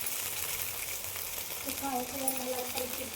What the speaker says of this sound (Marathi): टोमॅटो, छान सगळं परतून घ्यायचं भाज्या